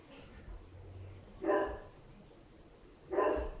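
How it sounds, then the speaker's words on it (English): A pet dog barks twice at a distance, short separate woofs about one and a half seconds apart over a faint room hum. "I don't know if you can hear my dog barking."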